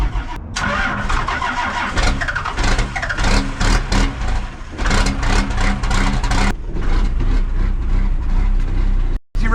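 A 1975 Dodge D600 truck engine cranks, catches and runs with a loud, rough, throbbing idle close by, cutting off abruptly near the end.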